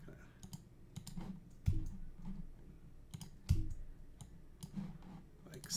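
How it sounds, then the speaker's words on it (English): A computer mouse clicks repeatedly while someone works in Photoshop, giving sharp, close clicks at an irregular pace with a couple of louder ones and faint background sound between them. "we're just clicking around a few different places"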